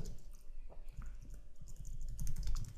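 Quick, close typing on a computer keyboard as a terminal command is entered on Ubuntu Linux; the soft key clicks come in an uneven burst with no talk over them.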